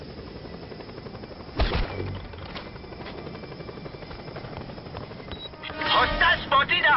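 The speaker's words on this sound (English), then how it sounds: "Hostile spotted up! A chopper!" An enemy helicopter in Just Cause 2 keeps up a steady rotor drone, joined by bursts of gunfire and louder mechanical thumps near the end, with a voice talking over it.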